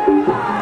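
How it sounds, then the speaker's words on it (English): Crowd roaring and cheering at a kickboxing bout between Branko Cikatić and Ernesto Hoost, a brief loud swell of many voices after a punch lands. "The crowd back on their feet."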